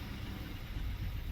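Car with a flashing check engine light and hard-start misfire running, a steady low engine drone close by with broadband noise, brief and alone without speech.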